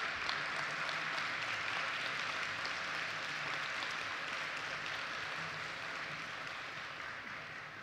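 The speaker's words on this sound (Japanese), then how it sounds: "皆様盛大な拍手をお願いいたします" Sustained applause from a large crowd at an expressway opening ceremony in an indoor arena, a steady wash of clapping that holds for several seconds and eases off slightly toward the end.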